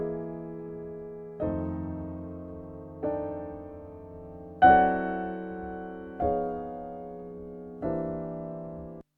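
Six slow, sustained grand piano chords, each ringing out and fading before the next, come close and clean through a pair of Brauner VM1 microphones, with no other sound.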